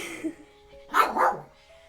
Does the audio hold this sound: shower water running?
no